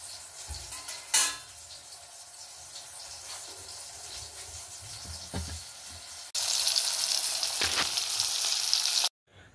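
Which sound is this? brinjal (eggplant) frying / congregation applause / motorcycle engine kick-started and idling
brinjal (eggplant) frying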